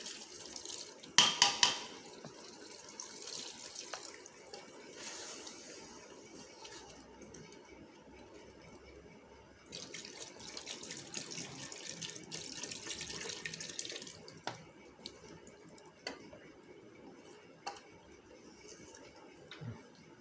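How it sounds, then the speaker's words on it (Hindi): Water runs and splashes steadily into a pot of chicken and arvi curry for the gravy, with a few clanks of metal near the start. "हसबे ज़रूरत शोरबे के लिए पानी डालेंगे।"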